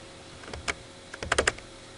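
Crisp computer clicks from selecting images on screen come in two small bursts, one early and a quicker cluster later, close and fairly quiet in an otherwise still room.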